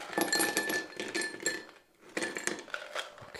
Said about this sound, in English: Let's get some ice in the glass.